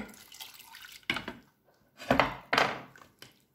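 Water from a small bowl pours into a saucepan in a kitchen, several short splashing bursts with quiet gaps between them, close and moderately loud, with no talk.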